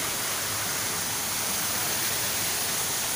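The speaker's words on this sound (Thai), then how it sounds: "ก็มีน้ำตก สวยมากเลย" Steady, dense rushing of falling water, constant and close, with no other sounds standing out.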